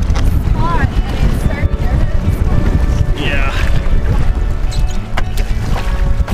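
A strong headwind buffets a canoe on the French River during a paddling trip. A blustery roar of wind hits the microphone continuously, with splashes of water and a voice mixed in.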